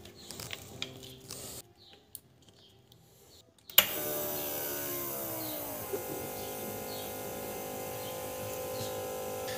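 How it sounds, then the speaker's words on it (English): An electric fuel pump in an injector test rig starts abruptly after a few faint clicks and rattles, then settles into a steady mechanical hum with a rising-then-leveling whine, running continuously to the end. "Then we're gonna start the pump to see if any of the injectors is leaking maybe"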